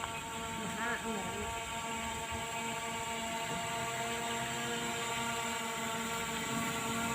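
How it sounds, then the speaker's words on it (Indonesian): A small SJRC F11 4K Pro quadcopter drone returning home on its own over a village, giving a steady whirring buzz of motors and propellers that holds at an even level throughout with no talk over it. "Tuh drone-nya kembali dengan secara otomatis ya teman-teman."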